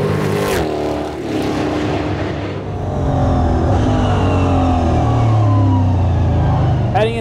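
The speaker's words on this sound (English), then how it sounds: "Heading into turn 1, loads of cars just going past" Engine roar of stock race cars in a EuroNASCAR racing video game, many cars revving loudly and sweeping past together with rising and falling pitch, a voice talking over the din.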